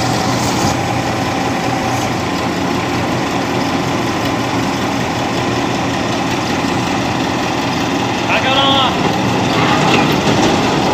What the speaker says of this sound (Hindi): ये देखें, ये हार्वेस्टर चल रही है।